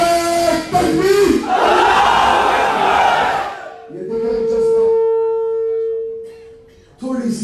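A large political rally crowd roars back in unison after a Naara-e-Takbeer slogan call, loud massed shouting that swells, fades, then erupts again near the end.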